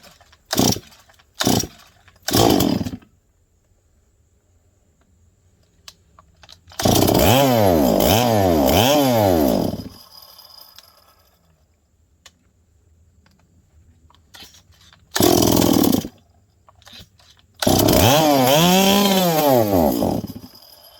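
A Stihl MS 460 chainsaw with a new carburetor gets a few short pull-start attempts, then fires up and revs loudly for several seconds, cuts out, and starts again for two more loud bursts of running.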